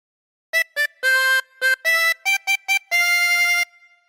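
A harmonica plays a short, simple melody of about nine notes from "When the Saints Go Marching In," some clipped and some held, heard close and clear with no voices.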